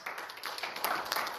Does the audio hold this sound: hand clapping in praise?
yes